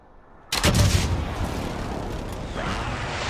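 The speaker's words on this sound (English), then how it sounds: "Friendly precision airstrike inbound." A precision airstrike in a video game hits with a sudden loud explosive boom, followed by a rumbling roar that fades slowly.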